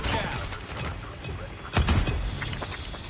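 Gunfire rattles in the mobile shooter game Call of Duty Mobile, with quick bursts of shots and one heavier burst in the middle, all fairly faint under a busy game mix.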